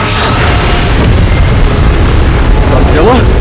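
A loud, sustained, roaring beam blast from the Godzilla and Kong vs Mechagodzilla video game rumbles continuously for the whole stretch, with a brief wavering tonal cry near the end.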